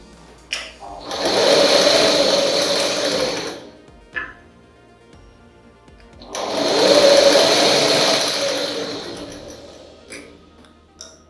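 A sewing machine stitches fabric in two long, steady runs of fast mechanical whirring, each a few seconds long, separated by a quiet pause with small clicks; no one speaks.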